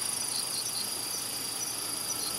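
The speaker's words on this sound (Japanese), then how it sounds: "この上から降り注ぐような音が外来種の青松虫です。" Aomatsumushi tree crickets, an introduced species native to China, chirp from the treetops in Chigasaki, making a continuous shrill high trill that pulses faintly and fills the whole stretch, with no voices.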